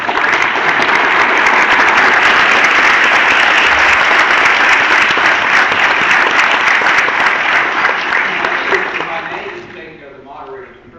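An audience gives a panel discussion on Chesapeake Bay water quality a loud, sustained round of applause that fades out over the last few seconds.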